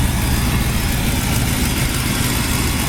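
A freshly tuned 1969 Nova SS engine with new belts, alternator and spark plugs idles in a steady, unbroken rumble, loud and close, with no talking.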